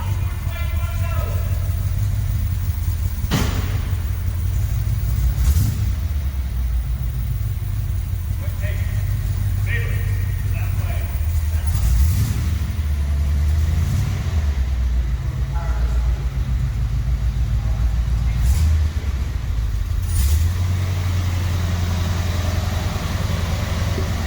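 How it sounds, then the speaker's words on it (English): A 1958 Plymouth Belvedere with a 392 dual-quad Hemi V8 rumbles steadily while driving onto a trailer, a continuous low engine drone with a few sharp clicks and knocks, people talking nearby. "You got 58 Belvedere, driving on the trailer."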